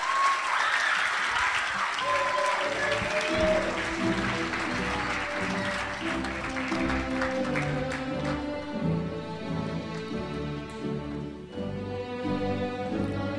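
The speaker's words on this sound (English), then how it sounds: "Can we just give them another round of applause?" A large crowd at a high school graduation ceremony applauds continuously, a dense steady wash of clapping that carries on for several seconds, while a tonal hum rises underneath.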